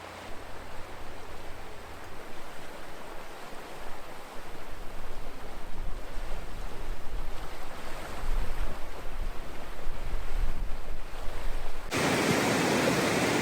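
River rapids at a portage in the Boundary Waters, running at very high water, give off a broad, continuous rushing roar. The water is close and loud, rises in intensity toward the end, and no one speaks.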